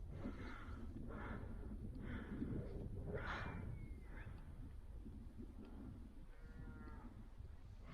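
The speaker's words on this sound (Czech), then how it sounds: "Vede tady ovce, někudy, nevím kudy." A flock of sheep is driven along a road toward Žabljak. Scattered bleats and livestock calls rise over a constant loud rumble of wind and movement, with no clear talking.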